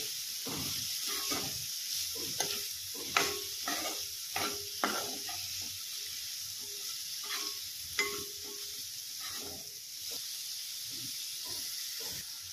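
Sesame and peanut powder stirred into kartule (spiny gourd) vegetables in a pan, heard as soft sizzling under a cluster of spatula scrapes and taps that thin out into a quieter steady hiss.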